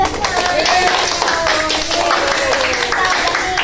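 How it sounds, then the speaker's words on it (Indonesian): A class claps hands together in a classroom, a dense continuous patter of many claps heard close, with voices talking and cheering over it throughout. "Tepuk tangan untuk kita semua."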